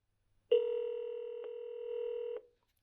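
An intercom phone plays a single steady dialing tone, clear and moderately quiet, lasting nearly two seconds with a couple of small clicks inside it, in an otherwise silent room.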